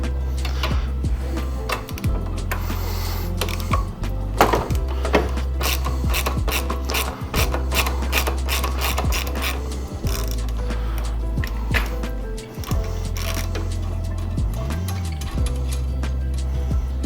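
Metal tools work on bicycle swing arm shock hardware with a 6mm Allen key and a 17mm wrench, giving clicking, ratcheting and scraping sounds close by over a low steady hum.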